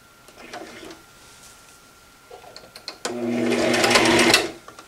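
A Brother sewing machine starts in short bursts, then runs steadily and loudly for over a second of continuous stitching on a pillow's trim before stopping.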